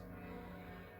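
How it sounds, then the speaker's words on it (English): Church bells ring from a church next door, a dense sustained tolling with layered ringing tones, steady and moderately loud, with no voices. "so you probably can hear the bells in the background."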